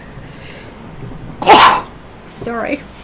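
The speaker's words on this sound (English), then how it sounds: "I'm going to sneeze" A single sharp sneeze bursts out indoors and is followed by a brief spoken apology.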